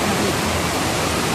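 Water flowing at Kadoorie Farm and Botanic Garden in Hong Kong, a steady broadband rush like a small waterfall or stream, continuous and fairly loud throughout with no other sounds.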